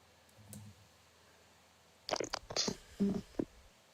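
Someone types on a computer keyboard in a quiet room: a single faint tap, then a short burst of several quick, close key clicks.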